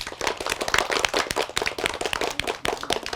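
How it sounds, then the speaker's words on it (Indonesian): An audience claps together in a hall, a dense, steady patter of many hands lasting about three seconds, moderately loud with no voices. "tepuk tangan untuk kita semua"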